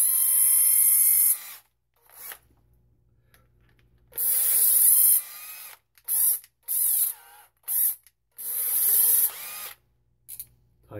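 A Panasonic 15.6-volt cordless drill whirs in several bursts of varying length, starting and stopping abruptly with near silence between runs. The motor is close and high-pitched, and a low murmur is heard in some of the gaps.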